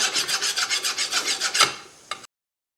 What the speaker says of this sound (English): So you've got to come in with a file, knock it off first.